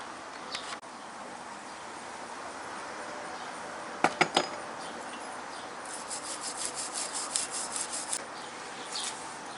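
A gasket is scraped off a two-cylinder Briggs & Stratton carburetor, with soft continuous rubbing, a few sharp clicks midway and a run of quick rhythmic scrapes toward the end, close up with no talking.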